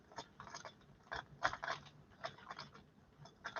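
Small clicking, ratcheting taps of a tool tightening down the rear link on a CC-01 model car, close and faint in brief irregular bursts with no talking.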